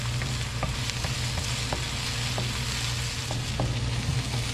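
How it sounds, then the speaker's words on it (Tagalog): Onion and garlic sizzle steadily in a hot pan as the base for Filipino beef pares, with a dense continuous crackle broken by light, regular clicks of a utensil stirring. "Hintayin lamang po natin magisa ito o maluto po itong ating sibuyas at bawang"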